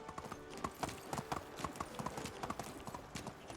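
In the video game Medieval Dynasty, a horse's hooves clip-clop in a quick, steady rhythm of crisp, close knocks that continue without a break.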